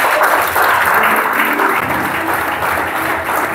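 A church congregation applauds during a sermon, with steady loud clapping from a crowd filling the whole stretch and a faint voice underneath.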